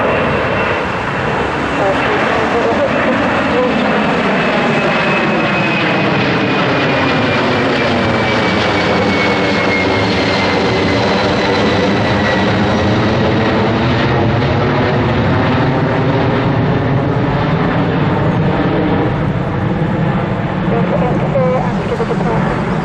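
Airliner jet taking off at Heathrow Airport, a loud sustained engine roar with a rising whine that swells and gradually shifts pitch as the aircraft passes close by, with faint radio voices at times.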